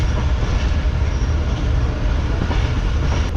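A train rolls slowly through Kotri Junction station, a loud, continuous low rumble of wheels and carriages close by, with faint rattling over the steady roar.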